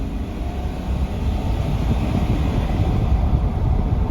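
A 2021 Chevy Silverado long-bed regular cab with a 5.3 V-8 runs under throttle, giving a loud, steady low roar with rough rumbling texture that builds slightly, heard from inside the truck.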